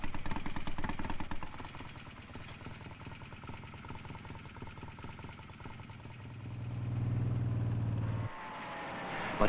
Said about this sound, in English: how do you put a muffler on a jet plane?